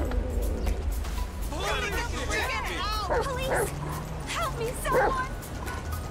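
Dog character in the video game GTA 5 giving a run of yips, barks and whimpers close up, mixed with steady game background noise and a person talking over it.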